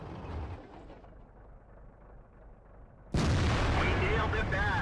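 Tank gunfire in World of Tanks, a sudden loud, sustained blast of distant cannon fire and rumbling after a quieter stretch of battlefield noise, with no voices.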